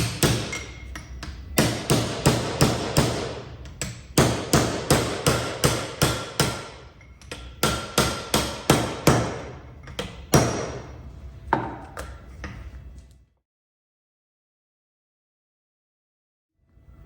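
A hammer taps a bearing into the rear output housing of a Magnitude 205 transfer case in rapid, ringing metallic strikes, dozens of close, loud blows in bursts, before everything falls silent.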